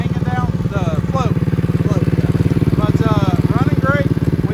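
Restored and modded 1990s monster truck engine running, a loud steady rumbling idle with even pulsing firing, while people talk over it near the machine.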